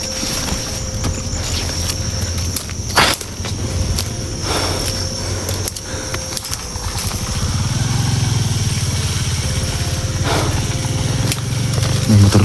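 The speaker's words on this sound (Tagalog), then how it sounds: "May motor lumaan, tol." A motorcycle engine passes by, a low rumbling drone that swells and grows louder toward the end, mixed with a steady high whine and scattered clatter.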